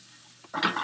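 Food is tossed in garlic butter in a single pot, a short soft stirring scrape that swells into a brief burst of sizzling.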